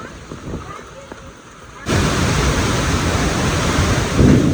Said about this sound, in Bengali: পুকুর পাড়ে আর অনেক ঠান্ডা বাতাস